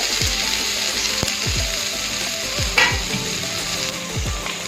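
Potatoes fry in a pan as part of cooking an omora tenga (hog plum) curry. Steady, close sizzling runs throughout, with repeated scraping stirs and light clinks, and nobody speaks.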